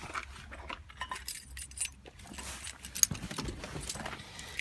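Car keys jangling and clinking for a 1986 Vauxhall Cavalier MK2, a close, faint metallic rattling in irregular bursts over a quiet background.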